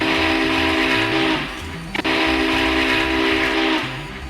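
Southern Pacific 4449 Daylight steam locomotive sounds its whistle loud and close in two long chime blasts split by a brief sharp break, with heavy rail rumble beneath.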